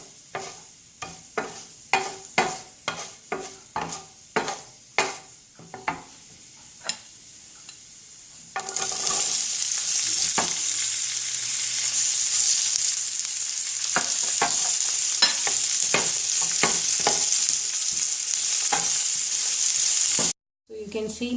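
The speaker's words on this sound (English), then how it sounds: "You can see now the onion is nicely sauteed." Onions sautéing in a pan for a kurma paste: first a run of sharp spatula scrapes and taps, then a loud, steady sizzle with more stirring clicks, close by and without talk.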